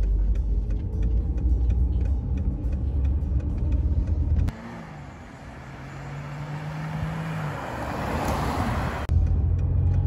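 A 1991 Mercedes 190E 2.0 petrol automatic in near-concours condition drives along with a continuous road rumble and engine hum, and the interior tone shifts partway through before returning.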